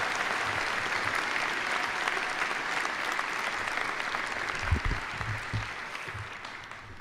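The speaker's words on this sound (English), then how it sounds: "Let's give Olushola and Madison a round of applause." Audience applause at the SUNY Oswego commencement ceremony, a large crowd clapping steadily and evenly throughout, with faint low voices and shuffling underneath.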